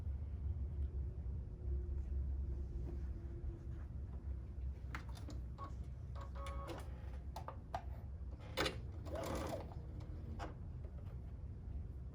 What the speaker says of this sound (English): So I'm just sewing these 3 sections together.